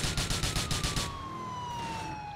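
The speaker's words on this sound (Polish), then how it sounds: "I znowu 8 radiowozów." Police car sirens in the video game GTA IV wail in rapid pulsing bursts at first, then a long falling tone sweeps down as the chase noise continues.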